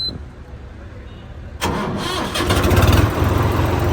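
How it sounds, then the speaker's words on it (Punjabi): A tractor engine cranks with the clutch pressed and catches partway through, then settles into a loud, steady rumbling idle close by after a quiet start. "ਕਲੱਚ ਦੱਬ ਕੇ ਸਟਾਰਟ ਹੁੰਦਾ ਬਾਈ ਇਹ ਆਵਾਜ਼ ਕਰੋ ਚੈੱਕ"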